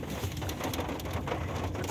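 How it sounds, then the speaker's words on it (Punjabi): Heavy rain falling in McLeod Ganj, a steady close patter of drops on surfaces throughout, with a soft bird-like coo mixed in. "ਇੰਨੀ ਤੇਜ਼ ਬਾਰਿਸ਼ ਇੱਥੇ ਸ਼ੁਰੂ ਹੋ ਗਈ ਹੈ"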